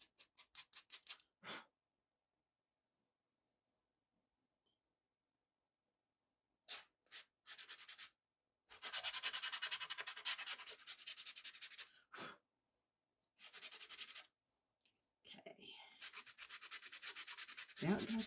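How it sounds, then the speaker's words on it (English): Bursts of dry, scratchy hand sanding on a thin piece of wood, brisk back-and-forth strokes close by, separated by pauses of silence, with no talking. "hold on to it real good where you're sanding"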